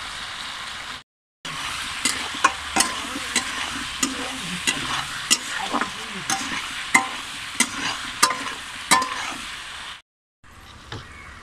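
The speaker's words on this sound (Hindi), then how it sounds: "आलू का रंग सुनहरा हो गया है, इसमें हम हल्दी डाल देते हैं।" Potatoes fry and sizzle steadily in a pan on a clay stove as turmeric is stirred in, with repeated sharp scraping clinks of the spoon at an irregular rhythm.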